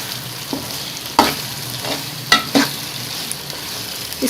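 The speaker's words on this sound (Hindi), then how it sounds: "अब हम इसके अंदर आलू डाल देंगे और इसको 5 मिनट तक इसी मसाले में हम अच्छी तरह से फ्राई करेंगे।" Potatoes fry in a pan with spices for an achari pulao, giving a low sizzle under scattered scraping and clinking from stirring, close up and moderately loud with no talk.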